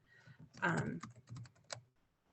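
Keystrokes on a computer keyboard as text is typed into boxes on a design page, a short quick burst of close clicks, with faint speech-like sound mixed in.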